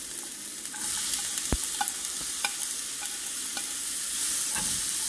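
Onions sauté in hot oil with mustard seeds, cumin, curry leaves, ginger and green chilli, a steady sizzle broken by scattered sharp crackles and pops and occasional spoon scrapes; no talking.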